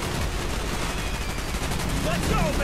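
In Call of Duty Black Ops gameplay, rapid weapon fire crackles in a busy, continuous barrage, with game effects layered over the steady shooting throughout.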